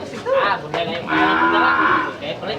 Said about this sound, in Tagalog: Ayun, malaking toro din yun.